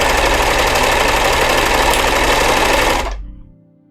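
A sewing machine stitching a cosplay costume runs loud and close in a steady, rapid mechanical whir for about three seconds, then stops abruptly and its sound fades to silence.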